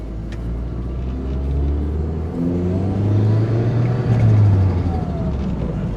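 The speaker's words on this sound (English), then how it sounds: "There goes the turbo." An Audi car drives while its turbo spools, a loud low engine rumble that rises and swells, with whirring whines sweeping upward. Nobody speaks.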